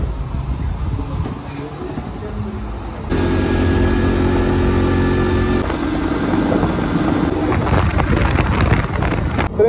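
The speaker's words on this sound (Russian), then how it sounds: "Я специально еду на квадроцикле." Quad bike ride near the village of Korkut-Eli outside Antalya, with heavy wind buffeting the microphone over a steady engine drone that shifts in pitch through gear changes, loud and continuous.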